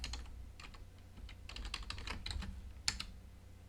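Keys clack on a computer keyboard as a Lua command is typed, a quick, close run of irregular taps with one sharper keystroke near the end, no voices.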